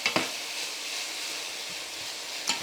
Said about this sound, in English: It can be a nice saute like this one